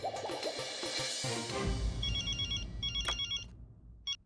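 A telephone rings in short repeated electronic bursts after a brief stretch of rustling and clatter, clear and close.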